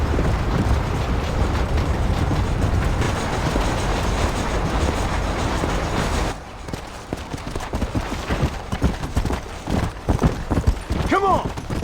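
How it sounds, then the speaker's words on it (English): A steam train runs in the Red Dead Redemption video game, first as a loud continuous rolling roar and then as quieter clickety-clack with hoofbeats alongside, and a horse-like cry sounds near the end. "There's a train leaving Chuparosa soon."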